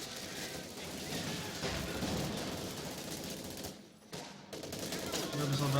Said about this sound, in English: my infantry throwing out rifle grenades again